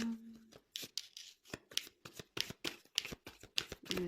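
Tarot cards are shuffled close by in a quick run of papery riffles and slaps, a dozen or so strokes in a busy, uneven rhythm. No one speaks over them.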